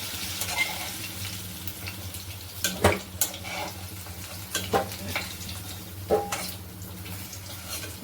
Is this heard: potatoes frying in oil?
yes